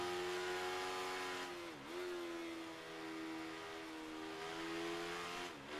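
Motorcycle engine in the Ride 3 racing game on a small training circuit, a steady loud high-pitched whine held near and continuous, briefly dipping twice as the revs drop for corners.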